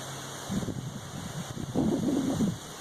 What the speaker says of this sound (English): Really don't like it this windy.